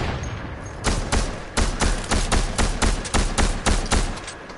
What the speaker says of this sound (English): Oh, we're shooting.